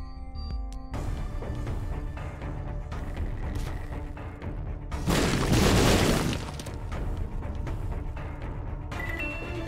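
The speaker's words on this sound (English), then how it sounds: "We have cluster bombs." Cluster bombs detonating in The Binding of Isaac as Tainted Keeper, a loud burst of crackling, shattering blasts midway over continuous game music, with no talk.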